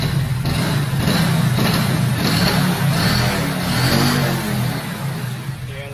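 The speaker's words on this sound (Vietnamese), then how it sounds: "Máy đang nổ im, hơi rí rí miếng, hơi sẹt sẹt miếng, nhưng mà máy im ha." A Honda Wave Alpha motorcycle engine runs close by at a steady idle with a faint whirring, rising and easing slightly.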